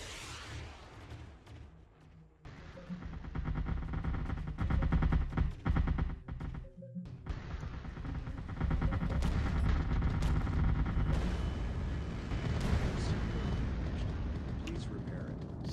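Heavy rocket launcher fire and explosions in the game Artificial Extinction on a snowy mountain map, a dense rumbling barrage with sharp blasts, a brief dropout midway, then sustained roaring impacts under faint talk.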